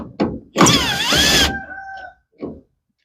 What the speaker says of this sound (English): you got to remove the screws that hold the taillight in place